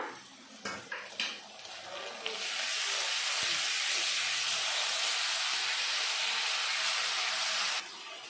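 A few clinks of a spoon on a pan give way to a loud, sustained sizzle as ginger-garlic paste hits hot oil with chopped onion, hissing steadily for several seconds before cutting off.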